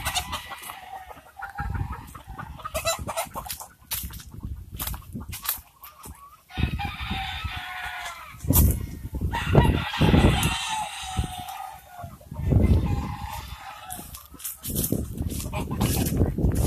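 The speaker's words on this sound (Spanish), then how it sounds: "Tenemos el sector de la gallina" Hens cluck and squawk repeatedly, with a rooster crowing loudly a few times amid a busy farmyard; a voice speaks briefly in the background.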